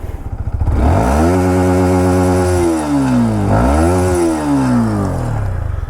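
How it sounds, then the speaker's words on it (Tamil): A Yamaha MT-15 version 2 motorcycle exhaust is revved twice with the throttle. Each rev climbs to a high, loud whine and then falls back, close up with no voices. "ஸோ இதோட த்ராட்டில் எக்ஸாஸ்ட் சவுண்ட் கேட்டு பாருங்கள்."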